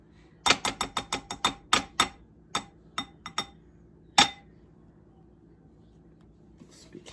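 Spoon scraping Trader Joe's Greek yogurt from its container, a quick run of sharp clicking scrapes at first, then slower scattered taps, and one last louder knock before quiet.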